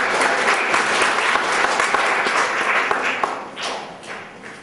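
Audience at a Maulana Azad Day event applauding a guest, sustained dense clapping from a sizeable crowd that swells and then tapers off toward the end.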